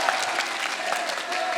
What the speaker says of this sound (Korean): 여러분 큰 박수 부탁드릴게요.